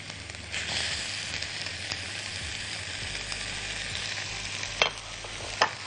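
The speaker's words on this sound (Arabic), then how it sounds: "هنحط اللحمه المفرومه نكسر على طول، ونقلب مع كل الخضار." Minced meat frying with vegetables in a pan while being stirred, a steady close sizzle with scraping strokes and a couple of sharp clinks near the end, no voices.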